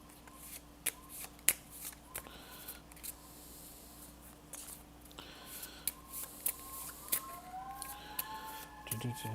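Faint siren tones rise and glide in the distance beneath close card-shuffling and handling noises from a Cartographers board game, with brief snaps and rustles.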